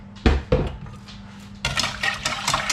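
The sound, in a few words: stirring liquid cream and sugar in a pan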